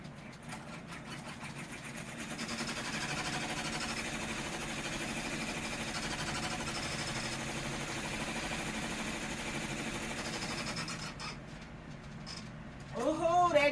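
An embroidery machine stitches out a letter on a back-to-school item, a steady mechanical hum with rapid needle chatter holding for about ten seconds before stopping as a person starts talking.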